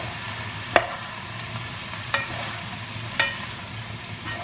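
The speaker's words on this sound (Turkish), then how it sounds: "Tekrar şöyle bir karıştırıyorum." Sautéed mushrooms are stirred in a pan under a steady low sizzle, with three or four light spatula scrapes and taps spaced about a second apart and no voices.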